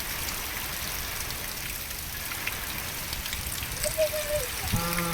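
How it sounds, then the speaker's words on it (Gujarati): Continuous hiss of steady rainfall with rising wind at the Rajasthan–Gujarat border, even and close, with a faint brief whine and a soft knock near the end. "આ દિશામાં પણ વરસાદ વધી રહ્યો છે"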